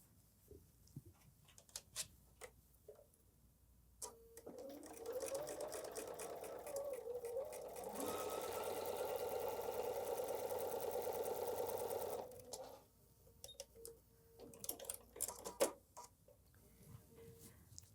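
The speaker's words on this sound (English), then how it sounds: "So let's again sew a 1/4-inch seam allowance." A sewing machine stitches a quarter-inch seam on a quilt, its steady fast whirring hum running for about eight seconds, framed by quieter ticks and clicks of fabric handling before and after, close and moderately quiet.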